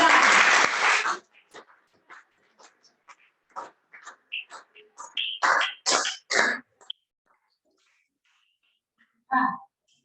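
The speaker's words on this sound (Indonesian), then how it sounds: "Ya, tepuk tangan sama dia." A short burst of clapping from a small group, fading quickly into scattered individual claps and faint voices, then one last brief clap.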